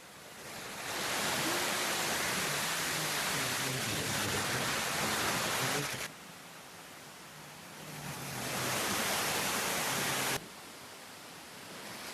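A waterfall at a scenic outdoor spot, roaring as a loud, dense, continuous rush of falling water that fades briefly twice before swelling back, with no talk.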